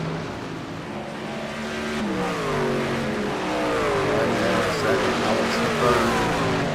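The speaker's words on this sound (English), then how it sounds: "side by side through the carousel, those two trucks door to door" Racing trucks run side by side through the carousel at Watkins Glen, engines droning and shifting pitch as they accelerate together, with race commentary talking over the continuous motor noise.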